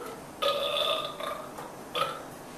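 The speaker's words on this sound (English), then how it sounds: "you always let a little bit of air out at the end so it makes it soft and supple. They call it burping the balloon" A latex balloon has a little air let out at its neck after inflating, giving two squeaky, burp-like squeals close by: a longer one followed by a short one, with no talk.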